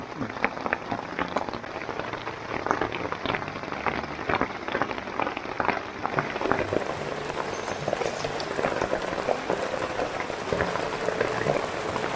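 Steady rain patters densely on a surface, a continuous hiss of drops that never lets up.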